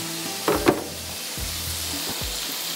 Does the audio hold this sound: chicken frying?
yes